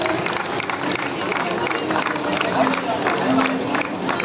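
Crowd applause at a charitable trust inauguration ceremony honoring donors and saints, a steady sustained wash of clapping and crowd noise throughout, moderately loud and continuous.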